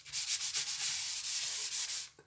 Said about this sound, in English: all I'm going to do is put thin coats on, just off a tissue